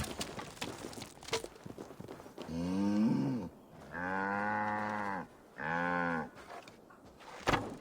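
A cow in Assassin's Creed Valhalla gives three long, drawn-out moos, loud and close, with faint footsteps and game ambience in the pauses between them.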